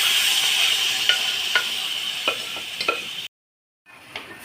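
Chana dal frying in a pan while being stirred, a steady sizzle with soft scraping strokes, then a brief gap before the sizzling resumes.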